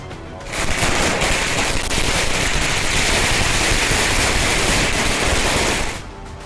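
A dense, continuous barrage of Diwali firecrackers bursting for several seconds, loud and crackling without pause, in India.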